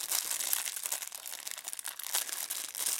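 A plastic packet holding a NATO watch strap is crinkled and worked open by hand, a close, continuous crackling and rustling with sharper crunches, no talk.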